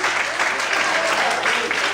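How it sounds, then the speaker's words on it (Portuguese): A church congregation applauds God together, a dense, steady wash of many hands clapping at close range throughout, with voices faintly mixed into the crowd noise. "Você pode aplaudir a Deus?"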